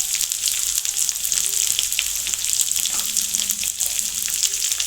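Spices drop one by one into a hot frying pan, oil sizzling loudly and continuously with a bright hiss throughout.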